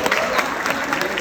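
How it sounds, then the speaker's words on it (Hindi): An audience at a Hindi poetry recital claps briefly, a quick, lively burst of many hands with a few sharper individual claps standing out. "एक बार तालियां बजाइए।"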